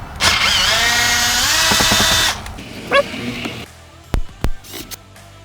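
Phillips screws being removed from the dash of a 2019-2024 RAM 1500 with a power driver: a loud, close, steady motor whir for about two seconds, then a few short clicks and knocks.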